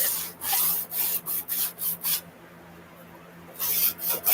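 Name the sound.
soft chalk being rubbed in circles on paper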